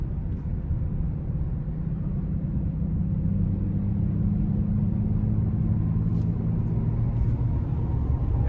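A 2023 Audi S7 with a 2.9-litre twin-turbo V6 pulls under throttle with sport shifts, a steady, loud, low engine drone with road rumble and no talk over it.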